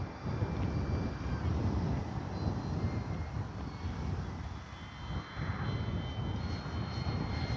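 A Kavan Pilatus PC-6 Porter RC model plane drones steadily overhead on a very windy day, its engine hum mixed with heavy wind buffeting across the microphone.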